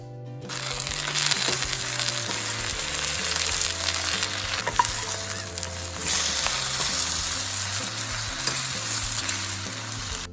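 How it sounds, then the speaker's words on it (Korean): Cabbage pancake frying in buckwheat flour batter in a pan, a loud, close, continuous sizzle with light scraping, over soft background music. "이번엔 메밀가루로 붙여볼게요"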